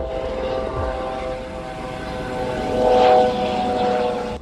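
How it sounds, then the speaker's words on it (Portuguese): A helicopter drones steadily in the distance over the volcanic island of Montserrat, its engine hum rising briefly as it passes, against a continuous outdoor background. "olha lá aquele helicóptero ali"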